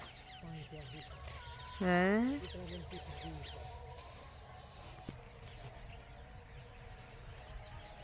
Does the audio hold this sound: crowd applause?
no